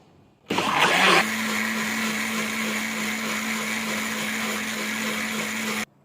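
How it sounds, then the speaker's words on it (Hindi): A mixer grinder whirs loudly as it grinds mint leaves with lemon juice, opening with a rough, chunky burst before settling into a steady high-pitched motor drone that runs for about five seconds and then cuts off abruptly. "अब हम इसे पीस लेंगे"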